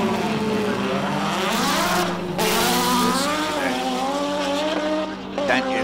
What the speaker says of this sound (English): and there he goes.